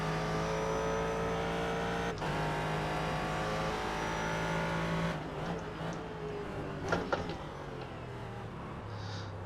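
Race car engines drone steadily in the iRacing video game, a sustained high whine that shifts pitch partway through as cars change gear and pass, with a few sharp clunks near the end.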